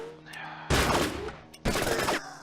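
Two loud, separate bursts of video game gunfire, each roughly half a second long, break over a quieter tonal background hum.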